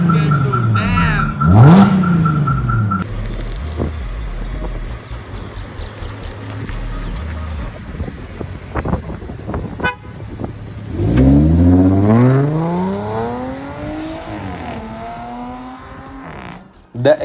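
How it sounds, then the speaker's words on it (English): A supercharged Audi A6 with a 480 PS engine revs hard nearby, its note sweeping sharply up and down, then takes off with a second rising, roaring pull over a steady rumble. "The exhaust note while the car taking off was a real pleasure"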